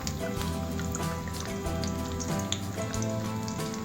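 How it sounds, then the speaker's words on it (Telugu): Raisins frying slowly in a pan over a low flame, a soft, steady sizzle with scattered small pops and crackles, close and continuous, with no talk. "హై ఫ్లేమ్ కాకుండా స్లో ఫ్లేమ్లో పెట్టి కిస్మిస్ పళ్ళు వేపుకోవాలి"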